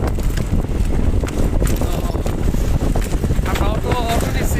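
Strong wind rushes steadily over the microphone while riding along a village road near Akbarnagar, Bhairab, a constant loud buffeting roar with faint voices underneath.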